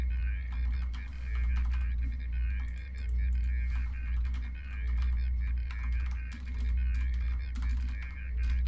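Typing on a computer terminal in the video game Deus Ex gives a continuous brisk clatter of keystrokes over a low steady hum, loud and near throughout.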